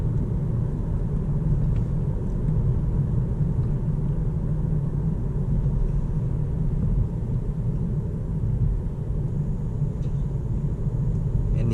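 A 2020 Kia e-Soul electric car drives along, heard from inside the cabin as a steady, low road and tire rumble with no engine note and no talking, continuous and fairly quiet throughout.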